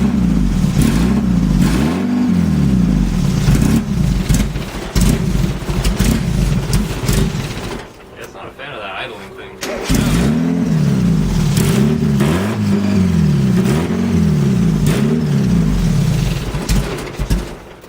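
A Miata engine fitted to a go-kart runs loud and close, its rough idle swelling into repeated revs with a brief drop to near quiet partway through before the revving resumes.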